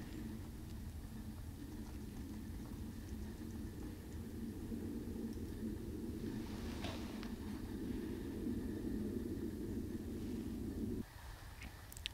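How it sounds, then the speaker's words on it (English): An airplane passes overhead outdoors as a low, steady, distant drone that holds at a constant level and then cuts off sharply near the end. "There goes another airplane actually right now."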